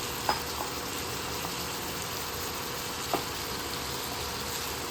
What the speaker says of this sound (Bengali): এবার আমি চানাটা দিয়ে দিচ্ছি। চানাটার সঙ্গে আলুও আছে সিদ্ধ, কাঁচা লঙ্কা আছে, এটা একটু দিয়ে দিলাম।